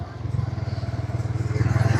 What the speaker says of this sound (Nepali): ट्र्याक्टर आयो कति धेरै मान्छे बोकेर आयो है